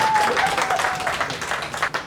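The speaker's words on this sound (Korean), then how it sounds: "박수 한 번만 주세요." Applause from an audience at a talk on CRM marketing, welcoming a guest to the stage: dense, steady clapping across the short span, fairly close and full, with no speech over it.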